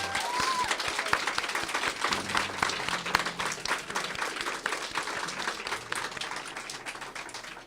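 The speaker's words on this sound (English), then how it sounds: "Let's give a round of applause as well for the English staff here at Franco West" A room full of people at a French school gives a warm round of applause for the English staff, a dense, steady clapping that carries on for several seconds before gradually thinning out.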